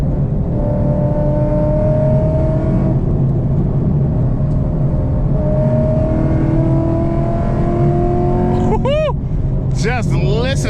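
A Chevrolet Camaro SS muscle car cruising on a road, its V8 holding a steady, loud drone with gradual pitch rises as it accelerates, and someone talking over it throughout.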